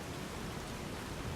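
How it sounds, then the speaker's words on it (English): Heavy rain in the video game Fallout New Vegas, a steady, dense, loud hiss of falling water filling the whole moment without pause or talk. "the rain is insanely loud"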